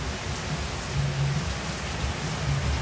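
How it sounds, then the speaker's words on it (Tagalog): Heavy rain pours down as a dense, steady hiss that stays even throughout, with a faint low hum beneath and no voices. "Maanggi yung ulan, wow"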